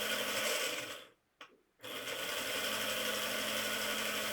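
Hornby model locomotive converted to run on 3-rail track, a steady whirring and gear-ratcheting motor hum that cuts out briefly for under a second, then resumes at constant level, close and alone without talk.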